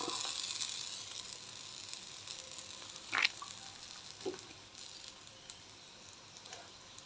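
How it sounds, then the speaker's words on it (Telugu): Moong dal pesarattu sizzles in oil on a hot pan, a steady soft hiss with a few brief louder crackles and pops midway, heard alone without talk. "కొంచెం కాలేద్దాం ఇప్పుడు కొద్దిగా మరి పైన ఆయిల్ వేస్తున్నాం లైట్గా"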